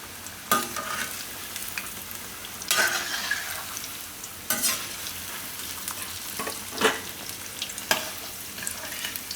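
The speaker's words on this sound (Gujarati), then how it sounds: "તેલ ગરમ થાય એટલે ધીમું કરી દેવાનું, પછી આને પકાવી લેવાનું" Eggplant vadi frying in hot oil on a low flame, with a continuous soft sizzle and sharp scraping stirs repeating every second or two, close and clear with no voices.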